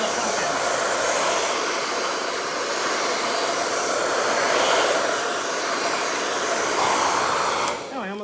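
A hair dryer blows steadily and loudly nearby, drying a freshly painted pumpkin with a continuous whooshing roar.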